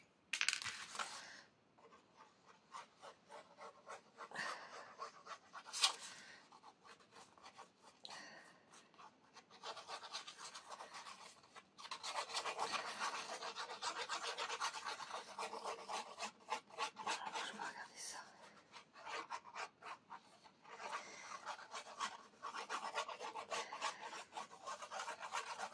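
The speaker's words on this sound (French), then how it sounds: "je viens mettre ma colle scotch" Tape glue roller run along a paper edge for a scrapbook album, faint close rasping and rubbing in repeated strokes with small clicks and pauses, no talking.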